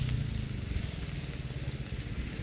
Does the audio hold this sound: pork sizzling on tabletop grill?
yes